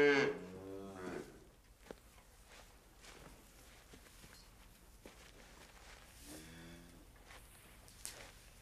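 Cows on a ranch let out two low, drawn-out moos, one at the start and a fainter one later, with quiet shuffling hoof steps and thuds in a calm outdoor setting between them.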